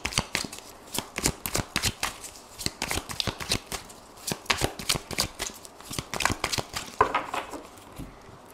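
Tarot cards are shuffled by hand close up: rapid, crisp riffling and slapping bursts repeat steadily with no talk.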